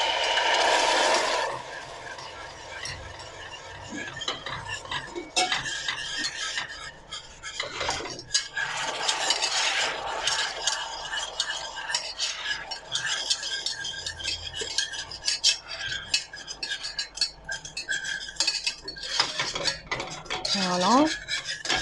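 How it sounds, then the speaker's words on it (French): Hot cream stirred vigorously into caramel in a pan, with continuous clinking and scraping of a utensil against the pan and some rattling, close and busy for the whole stretch, no voices. "on va verser dessus la crème bien chaude et on va remuer très énergiquement au fur et à mesure"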